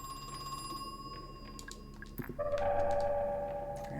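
A telephone rings inside the survival-horror video game Crow Country, a bright repeating electronic ring that grows louder over a steady game music drone, with no voices.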